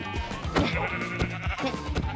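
Sheep in the video game Minecraft bleat in several short, quick cries over a busy game-sound background, close and fairly loud.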